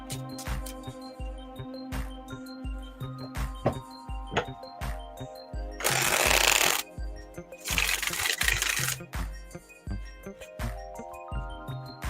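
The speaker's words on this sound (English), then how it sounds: "One more shuffle and we're ready to go" A deck of tarot cards is shuffled in two brief, crisp riffling bursts, each about a second long, over soft background music.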